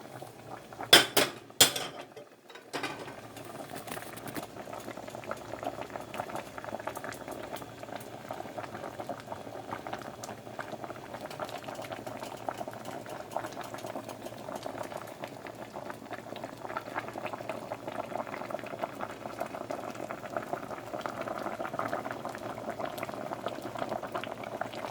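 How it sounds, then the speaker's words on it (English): A shrimp boil simmers in a pot, starting with a few sharp clinks of metal against the pot, then a steady, close bubbling and gurgling that runs on without talk. "Then we're going to let this simmer a few minutes."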